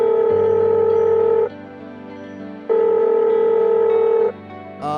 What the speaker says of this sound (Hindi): फोन मिलाया जाए।